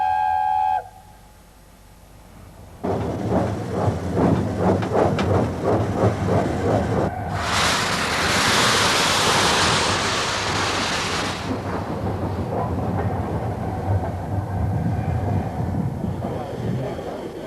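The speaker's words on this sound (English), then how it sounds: "the proud locomotive leaves her shed on the way to pick up her train" LNER 4468 Mallard, an A4 Pacific steam locomotive, pulls out of its shed with rhythmic chuffing, then a loud burst of steam venting and continued heavy, rumbling exhaust beats close by.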